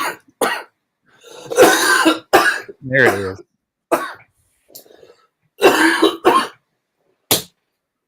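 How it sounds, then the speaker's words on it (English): A person coughs and clears their throat in harsh, close bursts spread over several seconds, with a brief spoken phrase among them. "Coughing up a lung."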